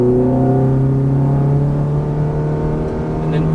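A Ferrari F430 engine on a race track accelerates under throttle, with a loud, close, steady harmonic drone whose pitch holds high and smooth, and a faint voice beneath it.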